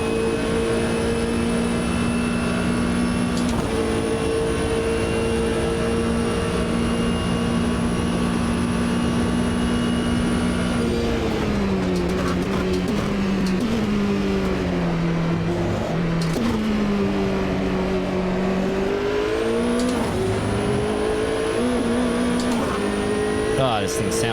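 A Nissan R390 GT1 race car engine in Automobilista 2 drones loudly and continuously, its pitch sweeping up and down through gear changes and throttle shifts, with a voice talking over it.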